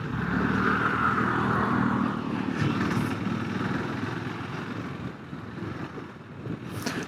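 A KTM Adventure 390 S motorcycle in fourth gear rides onto a bridge, its engine a steady close drone mixed with wind rush and road noise throughout, with no talking.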